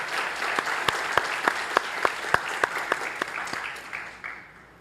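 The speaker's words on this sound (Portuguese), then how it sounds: "Aplauda mais forte." A church congregation at a Sunday morning service claps in a steady rhythmic beat, loud and close, with the applause thinning out toward the end.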